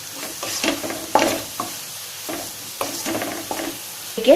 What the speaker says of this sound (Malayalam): ഒരു ലൈറ്റ് ബ്രൗൺ ഷെയ്ഡ് ആവുന്ന വരെ നന്നായിട്ടൊന്നത് ഇളക്കി കൊടുക്കാം